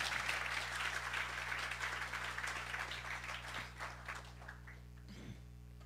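A church congregation applauds in a sustained wash of clapping over a low electrical hum, gradually thinning into scattered claps with a faint voice near the end.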